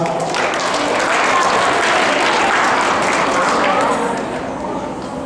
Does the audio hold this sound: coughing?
no